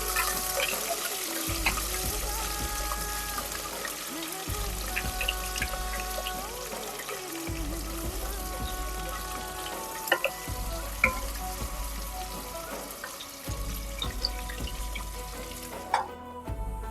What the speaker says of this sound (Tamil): கட் பண்ணி வச்சிருக்கிற வெங்காயத்தையும் இதில் சேர்த்துக்கலாம். வெங்காயம் சாஃப்ட் ஆகிற வரைக்கும் வதக்கிக்கலாம்.